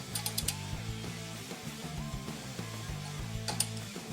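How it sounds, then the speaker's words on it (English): Ratchet wrench tightening 7/16 wheel bolts on a Harley Davidson wheel, with rapid clicking bursts repeating in short runs over a steady mechanical background, close and moderately loud. "Get them all evenly tight."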